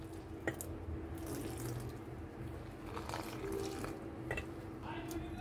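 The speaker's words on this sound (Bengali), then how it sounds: "এখন আমরা নরমাল জল দিয়ে আমরা একটা ব্যাটার তৈরি করে নিব।" Plain water poured slowly from a tap-like stream into gram flour to mix a batter for crunchy chanachur, a steady trickle and splash running continuously at moderate level with faint clinks, no talk.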